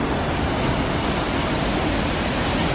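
Powerful rushing water roars continuously through a canyon along the Icefields Parkway in Jasper, a dense, loud, unbroken wash of sound with no breaks.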